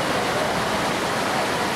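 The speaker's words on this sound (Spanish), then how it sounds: "esta fuerte lluvia acá en la ciudad de Cali" Dense, constant rushing of heavy evening rain in the city of Cali, a broad unbroken roar at steady loudness with no voices or pauses.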